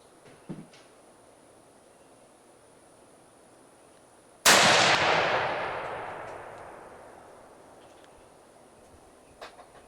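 A single sharp rifle shot from a WWII Waffen SS sniper rifle fired outdoors, loud and sudden, followed by a long echoing decay across the range, with faint small knocks before and after.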